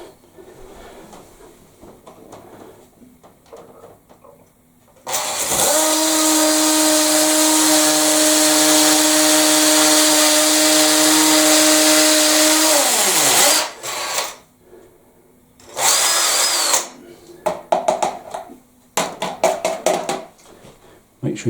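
A power drill bores through ceramic wall tiles into render and solid brick, a loud close whine running steadily for about eight seconds, followed by shorter bursts and rattling as the bit is worked and withdrawn.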